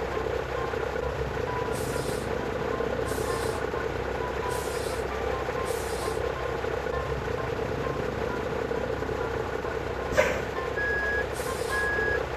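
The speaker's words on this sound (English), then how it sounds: "Sound saat mundur." Reversing beeps of a Hino RN285 bus in Bus Simulator Indonesia, a steady series of evenly spaced electronic beeps over a constant idling engine rumble, with a brief air hiss partway through.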